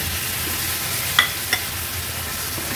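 Pomfret fish pieces stirred into a ground masala paste frying in oil, a steady close sizzle with two sharp clinks of a utensil against the pan.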